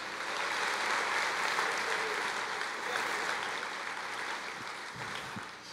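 A church congregation applauds in a steady wash of clapping that sounds somewhat distant and soft, tapering slightly toward the end.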